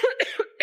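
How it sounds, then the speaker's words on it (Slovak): Woman coughing in a Slovak radio drama, several short close harsh coughs in quick succession, loud and clear with no other sound. "kašľala si"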